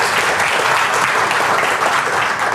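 An audience at a marketing plan seminar breaks into loud, dense applause, a continuous roar of many hands clapping that holds steady for a couple of seconds.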